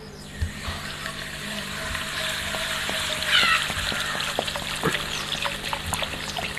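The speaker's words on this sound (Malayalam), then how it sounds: "നമ്മൾ നേരെ നല്ല ചൂടുള്ള പാനിലേക്ക് ഒഴിച്ചു കൊടുക്കുകയാണ്." Coca-Cola poured into a hot pan gives a steady hiss and sizzle with scattered pops and crackles, close up and moderately loud throughout, with no speech.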